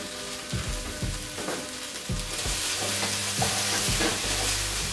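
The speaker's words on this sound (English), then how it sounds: "And now I'm going to add all of my peppers." Peppers fry with browned onion and garlic in a hot pan, a constant sizzle growing louder as a utensil scrapes and stirs in regular strokes.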